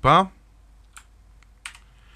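Keys on a Motospeed Inflictor CK104 mechanical keyboard are pressed in a few sharp, separate clicks spaced over two seconds, heard after a short burst of a voice.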